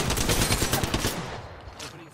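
Rapid gunfire from an Eva-8 shotgun in the Apex Legends video game rattles loudly for about a second, then fades into quieter game ambience with a faint voice.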